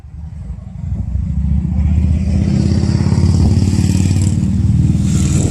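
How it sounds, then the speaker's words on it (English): A Harley-Davidson motorcycle rides past, its low rumbling V-twin engine swelling from quieter to loud and close, then holding a steady throbbing note. "Guy rode by in a Harley with no helmet."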